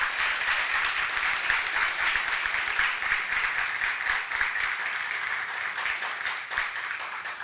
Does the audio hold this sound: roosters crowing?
no